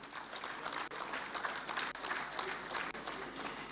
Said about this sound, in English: Let's give another round of applause to our celebrant,